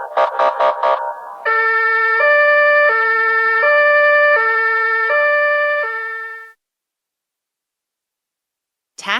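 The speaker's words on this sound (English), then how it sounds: "Ambulance," A short rapid yelp gives way to a loud, clean two-tone hi-lo ambulance siren alternating steadily for several seconds before stopping abruptly, leaving silence.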